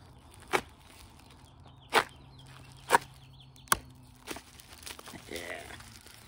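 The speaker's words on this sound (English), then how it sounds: "All right, this bubble wrap." Plastic bubble wrap being handled and peeled from a kukri knife package, giving several sharp crinkling snaps spaced about a second apart, then softer rustling, close and fairly quiet.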